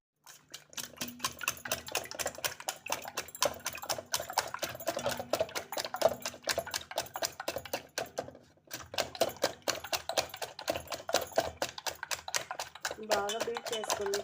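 Two eggs with a pinch of soda beaten hard in a bowl for a jowar omelette, a rapid continuous clatter of whisking that runs on with one brief pause, close and fairly quiet.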